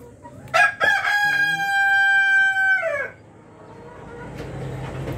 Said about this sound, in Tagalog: Ayan yung mga breeder natin na nangingitlog.